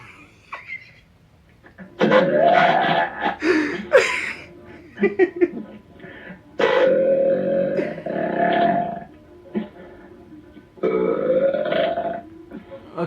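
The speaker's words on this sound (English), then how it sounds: "One last burp. One grand finale." A girl lets out long, loud burps during a burping contest, three drawn-out belches separated by pauses, with some giggling and short bursts of breathy noise between them.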